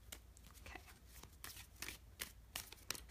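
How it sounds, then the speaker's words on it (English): Tarot cards being shuffled by hand, a quiet series of crisp riffling snaps and soft slides at irregular intervals, close and faint with no talking. "I can't shuffle today"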